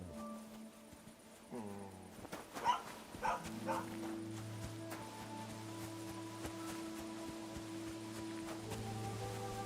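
A dog in Kingdom Come: Deliverance II gives a few short barks early on, then a steady tonal hum of game ambience and music carries on underneath.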